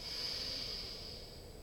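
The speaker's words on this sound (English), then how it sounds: "Ujjayi breath is nostril breathing, so you're going to breathe in through your nose." A single slow Ujjayi inhale drawn through the nose during a yoga core session, heard as a soft, steady airy hiss that is quiet and close with no talking over it.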